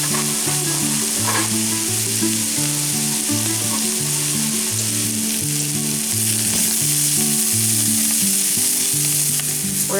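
Carrots, onions and celery sizzle steadily while frying in a pot for a Southern chicken pot pie, a continuous close crackle with no talking.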